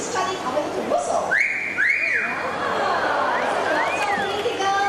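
A parrot at a Singapore bird park whistles loud rising and falling notes in a few separate phrases, over the murmur of chattering visitors nearby.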